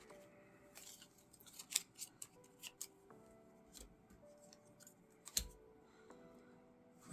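A deck of game cards being shuffled on a tabletop during a board game, with a scatter of light, crisp riffles, snaps and taps spread irregularly across several quiet seconds.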